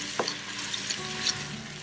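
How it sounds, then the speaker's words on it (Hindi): Onions turning golden brown in 4 to 5 tablespoons of hot oil in a pot, a dense steady sizzle with a couple of brief spoon scrapes, close up and without voices. "अब ये प्याज थोड़ी सी गोल्डन ब्राउन हो रही है, जब तक मैं इसको थोड़ा सा चलाऊंगी"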